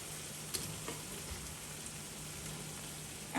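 Shrimp going into a simmering katahar curry: a steady, quiet bubbling and sizzling hiss throughout, with a few soft clicks and a louder clatter right at the end.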